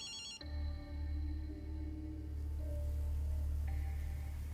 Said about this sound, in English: I rigged this phone to ring periodically and play back a recording